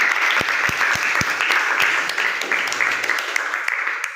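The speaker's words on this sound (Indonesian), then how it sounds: "Yuk, tepuk tangan." A classroom of students applauding, dense close clapping with a few sharp individual claps at the start, sustained for several seconds and tapering slightly toward the end.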